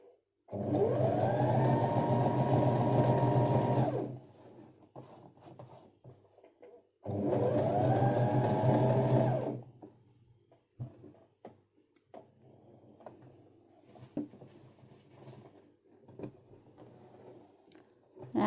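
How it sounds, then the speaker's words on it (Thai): Sewing machine running a straight line of stitching through cotton fabric, in two loud, steady bursts of about three seconds each with quiet handling of the cloth between them. "อ่ะงั้นแม่นุนก็จะเย็บตามเส้นตรงไปเลยนะคะ"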